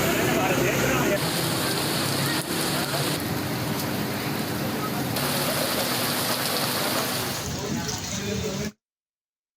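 Torrential rain with strong winds in Jalalpur Pirwala pours down as a dense, steady roar of downpour and gusts, loud and continuous before cutting off abruptly; a voice speaks faintly beneath it.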